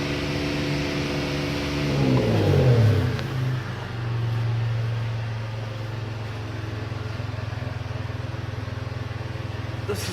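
A Mitsubishi 3000GT with an exhaust fault and a high NOx reading is revved once, the engine climbing sharply and then dropping back to a steady, close idle hum.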